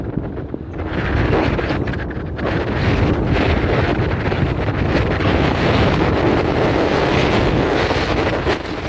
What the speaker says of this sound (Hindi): इतनी प्यारी हवा चल रही थी कि हवा की जो साउंड है वो वीडियो में तो बहुत क्लियर है।